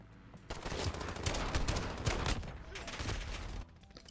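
Dragunov sniper rifle fire in Modern Warfare: a burst of loud, close gunshots with sharp transients over roughly three seconds, amid dense game combat noise, then a drop back to quieter background.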